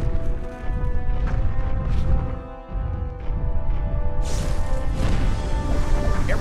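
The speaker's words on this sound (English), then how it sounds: "Use your Dino Blast to destroy all of the targets." Dino Blast shots destroying targets in the Power Rangers Dino Thunder game: a continuous run of loud crashing, booming impacts and bursts, with a brief dip before a sharp, bright blast.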